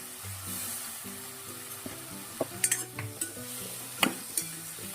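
A spoon stirs drumstick and potato curry in a pan under a steady background sizzle, with scattered scraping clicks and taps against the pan, close and fairly quiet.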